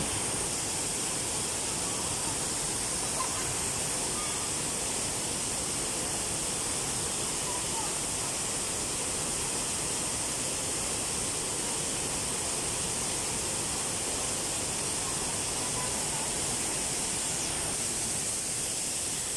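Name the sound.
Daranak Falls waterfall, Rizal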